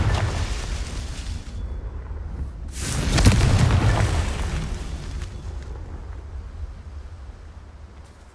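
A Confringo spell explosion in Hogwarts Legacy bursts as one loud, deep boom with a crackling blast, then rumbles and fades slowly over a steady low background.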